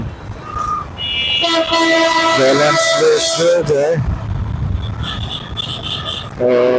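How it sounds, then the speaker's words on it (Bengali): A train on a newly built railway line draws near a flyover, its rumble and horn-like tonal blasts building loud and close while a person talks over it. "ট্রেন আসতেছে দেখা যায়"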